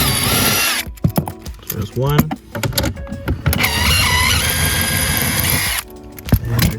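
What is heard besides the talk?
power tool removing nuts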